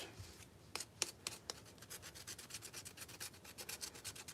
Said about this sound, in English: Get those sanded.